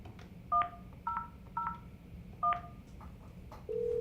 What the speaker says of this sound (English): to dial a 4-digit extension, just press the 4-digit extension number of the phone you want to reach